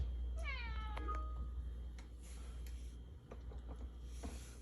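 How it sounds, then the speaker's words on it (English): A house cat meows once near the start, a clear rising-falling call over steady indoor background hum, followed by soft scattered handling noises and faint rustles in a room full of PEZ dispensers and tins. "Our cat saying hi."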